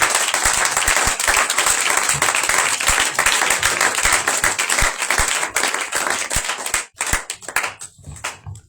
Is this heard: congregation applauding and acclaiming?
yes